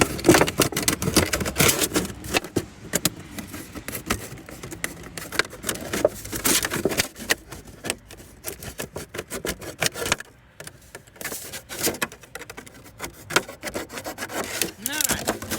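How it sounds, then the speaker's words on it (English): A plastic jug being cut around with a blade, giving a long stretch of scraping, rubbing and crackling noise in uneven bursts, close and steady. "now that we have our holes, we can cut around the jug."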